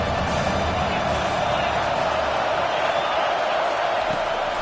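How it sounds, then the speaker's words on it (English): A dense stadium crowd roars steadily in support of the defense on third down during a football game, a constant loud wash of cheering and noise with no break. "Decibels rising as the crowd gets behind this defense on 3rd down"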